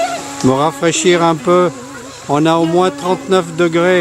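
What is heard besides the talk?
cicadas buzzing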